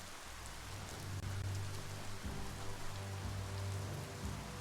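Steady rain in the video game Biomutant, a dense, even hiss of drops pattering on surfaces with a low rumbling undertone, close and continuous throughout.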